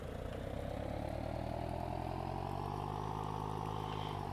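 A tractor engine in the farming game Landwirtschafts-Simulator 19 drones continuously, a steady low idling rumble with a slowly shifting pitch, heard alone without talk.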